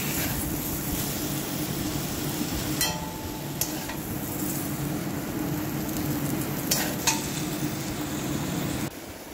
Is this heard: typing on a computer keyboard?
no